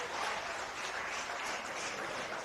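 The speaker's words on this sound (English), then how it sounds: "Cheering coming from the field behind us" Distant crowd cheering drifts over from a neighbouring football field at a sports park, a broad continuous wash of noise without distinct voices.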